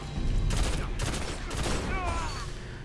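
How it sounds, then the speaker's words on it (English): Gunfire in Destiny PvP play, a burst of several sharp, loud weapon shots in quick succession with a short electronic whine afterward, game effects only. "I'm gonna try my shotgun too."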